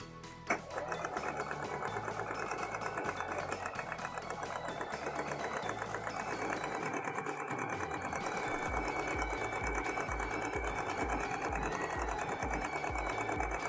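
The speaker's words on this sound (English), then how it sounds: "Then we'll finish it off by stitching the hem in place on our sewing machine." A domestic sewing machine stitches the hem of a dress in one steady, fast run of close, even needle strokes, with a faint motor hum underneath.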